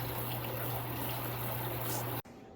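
Running water pouring steadily over fresh peppers being rinsed, a continuous close trickle with a low hum beneath it, cutting off abruptly near the end.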